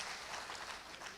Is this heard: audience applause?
yes